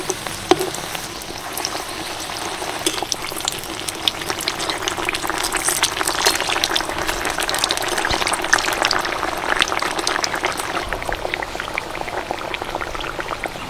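Potato mango chops fry in hot oil, a dense continuous bubbling sizzle with fine crackles throughout, loud and close, with a brief clink near the start.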